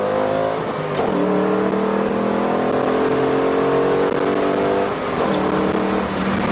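A Ford Mustang GT accelerates hard nearby, its engine note climbing steadily through the revs, dropping at a gear change, then climbing again as a loud, continuous roar with no talking.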